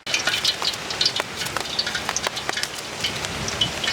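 Heavy rain pours steadily, a dense broadband hiss with scattered sharper drops close by; no voices.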